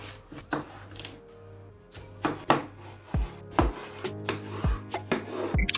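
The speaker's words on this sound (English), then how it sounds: "First, cut off the rings of the watermelon and take out the seeds" A knife chops through watermelon on a cutting board in a series of crisp, irregular strikes, some sharp thuds and scraping cuts, close and clear with no talking.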